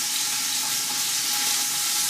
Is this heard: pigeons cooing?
no